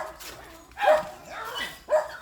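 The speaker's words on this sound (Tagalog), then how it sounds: "Mga aso ni Itay, oh," Several farm dogs bark in three short, loud bursts with rough yips between them, fairly close, and no talk over them.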